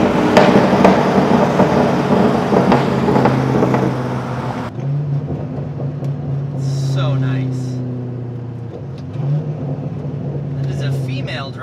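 Chevrolet Corvette C5 Z06 V8 revving hard inside a road tunnel, a loud, reverberant roar that rises and falls through the first few seconds and then settles into a steadier drone while cruising.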